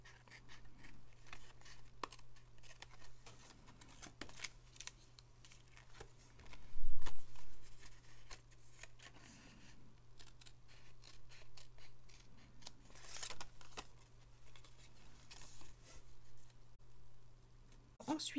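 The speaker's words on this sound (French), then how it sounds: "Et ensuite, je coupe ce qui dépasse." Scissors snip through paper and card while trimming the edges of a handmade farm-animal card in a craft workshop, a run of close, crisp cuts with small rustles between them and no talking.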